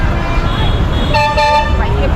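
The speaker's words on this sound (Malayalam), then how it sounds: "ബസ്സിൻ്റെ ഹോണടിയാണ്" A bus horn honks in a sustained toot at close range, sounding over street traffic noise, with a voice talking underneath.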